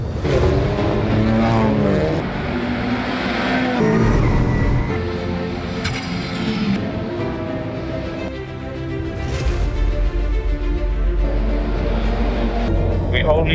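A WTCR touring race car on a qualifying lap at night in Malaysia, its engine revving and shifting loudly up and down, heard from onboard beneath continuous talk.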